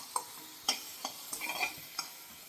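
Spices with turmeric powder gently stirred in a frying pan for chilli baby corn: a few quiet, separate spoon taps and scrapes with a faint sizzle beneath.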